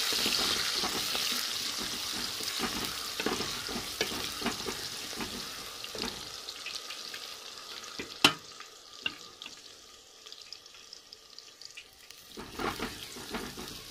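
Green garlic and green chillies sizzle and crackle steadily in a hot pan for a chicken kachnar dish, with stirring scrapes and a sharp metallic clink partway through as the frying quiets slightly.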